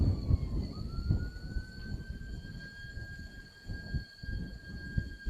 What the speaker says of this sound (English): Sorry, the siren.